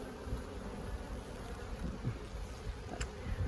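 Carniolan honeybees swarm and gorge at an open hive after being smoked, giving a steady, dense buzz mixed with gusty wind noise and a few closer passing bees.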